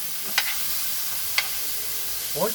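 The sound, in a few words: pork slices being added and sautéed in pan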